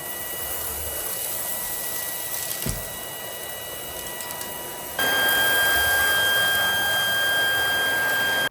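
Shark ICZ300UKT cordless upright vacuum cleaner running with its wide upholstery tool, a steady whirring motor hum with a brief bump near the middle, then rising to a louder, higher-pitched drone for the last few seconds; no talking.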